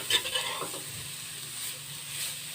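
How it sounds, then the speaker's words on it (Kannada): Grated carrot fries in a tablespoon of ghee in a kadai while being stirred. A soft, quiet sizzle carries on under a few light scraping stirs, and no one speaks. "ಈ ತುಪ್ಪಕ್ಕೆ ನೀವು ಕ್ಯಾರೆಟ್ ತುರಿ ಹಾಕಿಬಿಟ್ಟು ಈ ಥರ ಫ್ರೈ ಮಾಡ್ಕೊಳ್ಳಿ"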